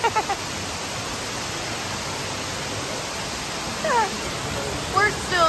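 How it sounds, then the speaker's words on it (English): Steady broadband rush of an indoor waterfall inside a large Bass Pro Shop store, constant and fairly close, with faint bird-like chirps and brief voices near the end. "now there's waterfalls"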